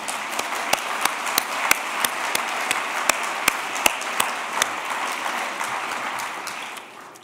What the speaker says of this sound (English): Otherwise, we're going to just applaud anyway.